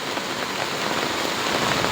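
Heavy monsoon rain pours onto a rooftop, a dense, even wash of hiss that holds steady and fairly loud throughout, with no voices.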